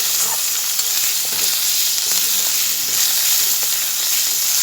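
Spice paste of ground chili, turmeric and salt being sautéed in a pan, a dense continuous sizzle with faint stirring scrapes, loud and close, no talking.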